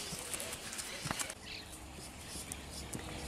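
Hooves of a dark bay polo horse clip-clopping at a walk, a series of soft irregular thuds on the ground, moderately close.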